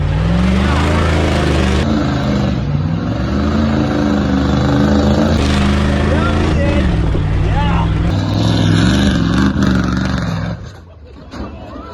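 A 1990 Ford 7.3 IDI two-wheel-drive diesel truck revs hard and loud and close, its engine note rising and falling steadily for about ten seconds before dropping off, with people's voices mixed in.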